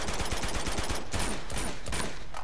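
Sustained gunfire in the Uncharted video game, steady rapid bursts of shots layered with background game noise, loud and continuous throughout.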